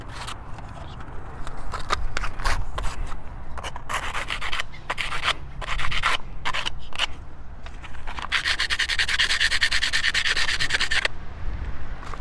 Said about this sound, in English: Maybe I could just do that with the sandpaper so I don't have to cut it anymore.